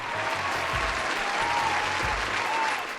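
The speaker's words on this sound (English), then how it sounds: "Give him a round of applause" A crowd applauds in a steady wash of clapping, dense and even throughout, with a faint tonal whistle running beneath.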